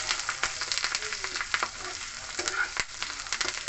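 Cumin, mustard seeds, curry leaves and grated ginger crackle and sizzle in hot oil in a wok on a gas stove, with sharp pops and stirring scrapes close by, a faint voice in the background.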